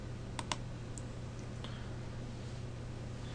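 A few soft computer mouse clicks, two close together near the start and a couple of lighter ones after, faint and crisp over a low steady hum with no talking.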